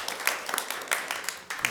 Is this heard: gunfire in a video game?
no